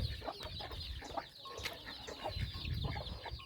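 A hen and her chicks clucking and chirping close by, a busy mix of soft clucks and thin high peeps repeating throughout the short stretch.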